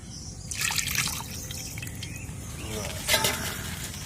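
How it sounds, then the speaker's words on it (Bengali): Spiced water poured into a pan for cooking koi fish with kalmi greens, a liquid trickling and splashing in two bursts over a steady low background, with faint voices nearby. "ওই জলটা দিয়ে দেবো"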